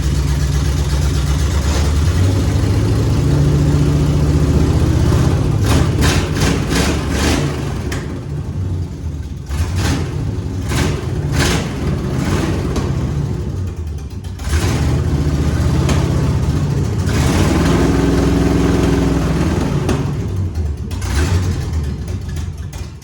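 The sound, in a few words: 1950 GMC truck on S10 frame, engine running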